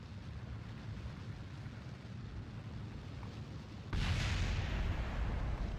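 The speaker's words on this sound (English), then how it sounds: "we got a failed mission because the fuel tank exploded" A rocket fuel tank exploding in Kerbal Space Program (JNSQ career): a low, steady rumble breaks into a sudden loud blast near the end, followed by a sustained roaring crackle.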